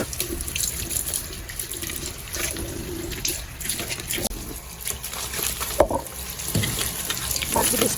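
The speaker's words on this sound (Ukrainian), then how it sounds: "Вирішила зранку помити трошки фільтри від ем, кондиціонера" Air conditioner filters rinsed under a running tap in the morning, a steady broad wash of flowing water with occasional splashes and knocks, fairly close and continuous throughout.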